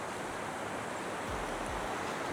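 Water pours steadily over a dam on a river, a continuous broadband rush with no pauses, with a couple of low thumps near the end and no voices.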